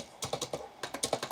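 Quick clicking keystrokes on a budget computer keyboard, two short bursts of close, crisp taps with a brief pause between.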